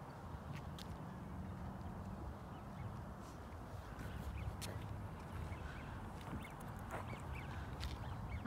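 A duck quacks in a park, the calls scattered across steady outdoor background noise at moderate distance, with no talk.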